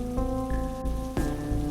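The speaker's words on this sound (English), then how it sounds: "As the rain fell heavier on the roof, Stefan closed his eyes and fell asleep" Heavy rain falls on a roof in a steady, close patter and hiss, with a sustained tonal hum running underneath throughout and no voices.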